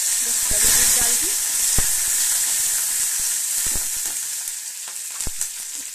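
Mustard seeds and curry leaves sizzling loudly in hot oil for lemon rice, a bright continuous hiss with occasional pops and a few spoon taps, no talk.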